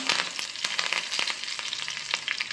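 Hot mustard and fenugreek tempering sizzles as it meets Kerala kaalan curry, a bright crackling fry with intermittent sharp pops and stirring scrapes, close and moderately loud, no one talking.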